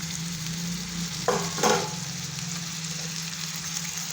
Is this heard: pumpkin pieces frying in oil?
yes